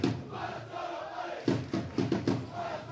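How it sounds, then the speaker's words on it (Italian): Pro Palazzolo supporters chant in a stadium during a Serie D Girone B football match, a steady crowd roar with several rhythmic shouted bursts near the end, carried from a distance without close talk. "mentre continua il grido da parte del tifo della Pro Palazzolo ad insistere a portare in avanti giallo-blu"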